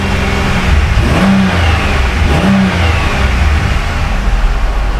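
A car engine revs up to about 2,500 RPM and holds there, a loud, steady mid-pitched drone close by, with two short rises in pitch partway through and no talking.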